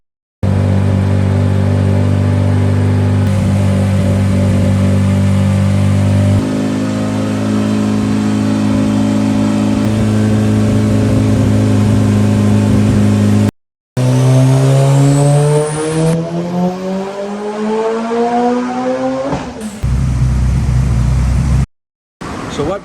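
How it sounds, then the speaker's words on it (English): A Mitsubishi Eclipse GSX with a Holset turbo at around 35 psi boost revving hard on a dyno, its loud engine note climbing and holding through gears, with rising pitch sweeps and brief cutoffs between pulls. "That way we can stick to the dyno a little better."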